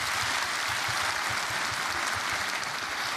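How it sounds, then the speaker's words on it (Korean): A church congregation claps steadily through a Korean New Year's Eve worship service, a dense, even wash of applause with no talk over it. "격려의 박수 부탁드립니다."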